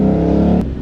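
A car engine revs loudly and close with a strong droning hum right after stalling, then cuts off abruptly near the end.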